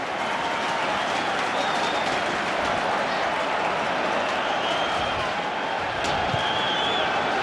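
A stadium crowd roars at a 2005/06 A-League football match between Melbourne Victory and Perth Glory, a loud, steady wash of cheering and clapping that holds without a break.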